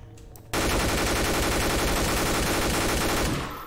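Loud, dense automatic gunfire from a Garry's Mod Five Nights at Freddy's game, a brief lull and then an unbroken rapid burst that runs nearly three seconds before tapering off.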